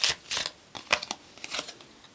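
Tarot cards riffled and shuffled by hand in several quick bursts, crisp papery flutters with short pauses between, close and fairly quiet, no talking.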